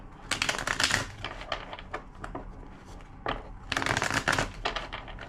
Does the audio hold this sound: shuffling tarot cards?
yes